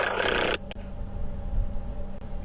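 On a sunrise safari drive, a person's voice imitates an oxpecker's rasping rattle call in a short, harsh, buzzy burst lasting about half a second. Quiet outdoor ambience follows.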